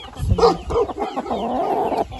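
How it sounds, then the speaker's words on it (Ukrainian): Black Copper Marans hens cluck and murmur close by, a few short clucks followed by a longer drawn-out vocal call. "оце чистопородний маран чорномідний"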